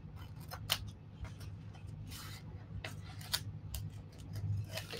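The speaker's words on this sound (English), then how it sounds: "Cut out this little mushroom guy." Scissors snip out a small mushroom-shaped transfer for Halloween glass decorating, giving faint, close, irregular clicks and rustles over a steady low hum, with no talking.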